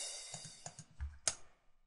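A second crash cymbal sample in FL Studio plays as a bright crash hit that decays, mixed with soft low thuds and a sharp shimmering strike partway through, with no talking.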